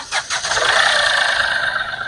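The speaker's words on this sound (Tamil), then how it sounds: "நம்ம இன்ஜின் கண்டிஷன் எப்படி இருக்குன்னு பார்த்துலாம் வாங்க சவுண்டு பாருங்க" A Mahindra KUV100 car engine cranks and catches, then settles into a steady, loud idle with a high whine running through it.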